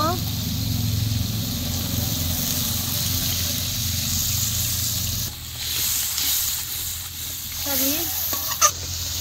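Spiced masala water poured into masala frying in a pan while cooking a thin rui fish curry with kath kochu, with steady stirring and sizzling underneath, then a brief pour and splash as the hiss drops.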